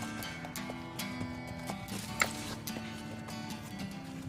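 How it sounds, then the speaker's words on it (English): Horse hooves clip-clop in a steady, moderately paced rhythm within a video game, faint and continuous beneath a low background score, with one brief louder knock midway. "You're a good horse, Tranquility."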